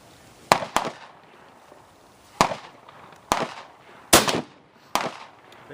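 Firearm shots at an outdoor shooting range, six sharp loud reports at irregular intervals, each with a short echoing tail, the first two close together.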